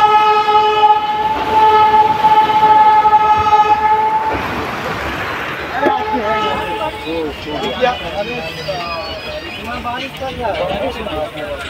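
Amarnath Express standing at NGP station in heavy rain sounds a long, loud, steady horn, then gives way to rumbling railway noise and platform clatter with voices talking nearby.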